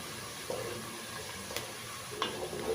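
Onions frying in a hot pot for egusi soup, a soft continuous sizzle with a few faint stirring clicks and scrapes, no talking.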